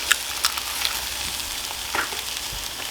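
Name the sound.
eggs frying in a hot pan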